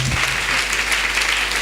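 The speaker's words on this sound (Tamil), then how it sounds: "நல்லா கைத்தட்டு கொடுங்களேன்." Audience in a church hall at a camp gathering applauds, a dense, loud, steady patter of many hands clapping throughout.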